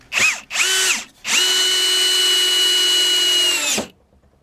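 A drill fitted with a well-used Bosch bit drives a Torx screw into metal, two short bursts of whirring then one long steady run that stops abruptly, loud and close with no talking.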